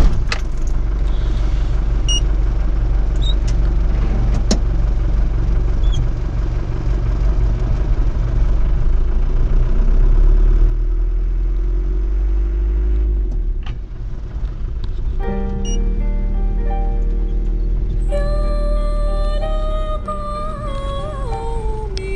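Steady low rumble of a camper van engine on the road in Morocco, loud and continuous with a rattling jangle of loose items, easing to a smoother drone partway through.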